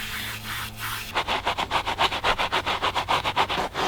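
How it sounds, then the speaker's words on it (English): A brush scrubs Meguiar's upholstery cleaner into the thick carpet of an original Mazda RX-7, first in a soft rub, then in quick rhythmic back-and-forth strokes, about a dozen close scratchy passes. "see if this Meguiar's upholstery cleaner cleans all of this stainage out here."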